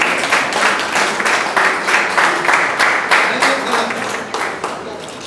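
Applause from the audience at a book launch ceremony: dense, rhythmic clapping with a regular pulse, steady and fairly loud throughout, with a faint murmur of voices underneath.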